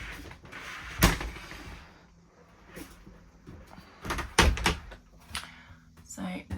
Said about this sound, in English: The doors can be opened